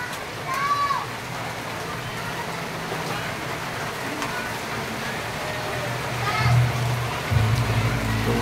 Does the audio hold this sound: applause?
no